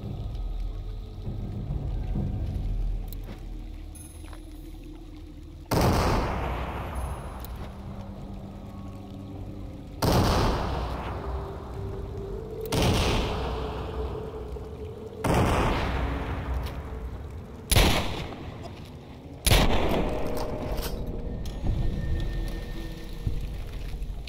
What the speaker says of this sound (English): I'm spamming a lot of grenades